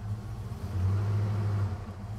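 A Jeep J10 full-size pickup truck drives along with a low, steady engine rumble that swells slightly as it pulls, heard close from inside the cab with no talking.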